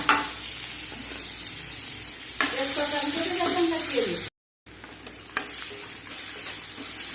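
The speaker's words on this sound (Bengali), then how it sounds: "পেঁয়াজ আর রসুনটা ভাজা ভাজা হয়ে গেছে" Chopped onion and garlic sizzle loudly in hot oil in a pan for eggs, with a steady close frying hiss and a short gap partway through; stirring adds scraping texture and a voice briefly comes through.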